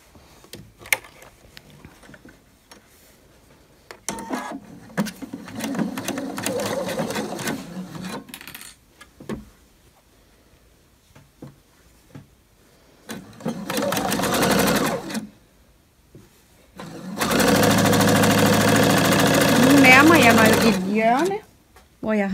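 A sewing machine stitches a long shoulder-to-shoulder seam on a long vest with a shawl collar, running in several loud bursts of rapid, even stitching separated by pauses, with quiet handling noises and brief speech between runs.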